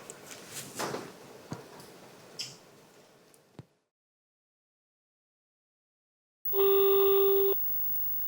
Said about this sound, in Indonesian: Kayaknya gue harus telepon Randy deh